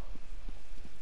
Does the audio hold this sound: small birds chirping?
no